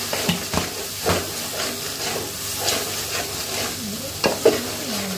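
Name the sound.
stirring coriander powder into chicken and bottle gourd curry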